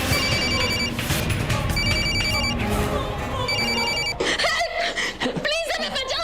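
A phone ringtone repeats in three evenly spaced bursts over a tense TV drama music bed, then gives way to voices talking close by.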